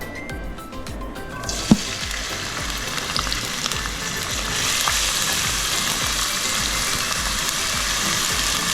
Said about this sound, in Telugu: ఉల్లిపాయలు ద్వారగా వేయించుకోవాలి